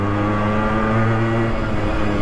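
A Yamaha RX100 motorcycle engine runs loud and close with a steady throbbing idle, slightly rising and falling, no voices.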